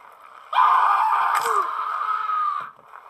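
A character's long, wailing scream from the Happy Wheels video game, one sustained cry lasting about two seconds, loud and alone over quiet game background.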